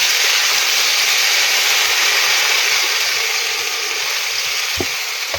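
Akla-akla frying in a pan makes a loud, dense, unbroken sizzle with a close, bright hiss that holds steady throughout, marked by one faint tap near the end.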